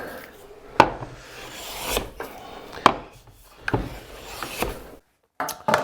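A hand plane takes long, smooth shavings off a wooden board in about five close, rasping strokes, with short pauses between them.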